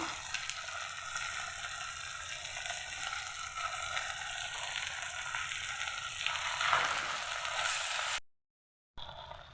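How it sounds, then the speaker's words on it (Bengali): Onion fries in a hot pan along with chicken and chhena, giving a steady, close sizzling crackle that swells briefly near the end before cutting out. "আমি সামান্য পেঁয়াজ দিয়ে এর সঙ্গে লালচে লালচে করে ভেজে নেবো"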